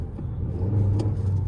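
A car on a seven-day trial drive, engine pushed hard under acceleration: a steady, loud low rumble that swells slightly as the revs build, with no talking over it.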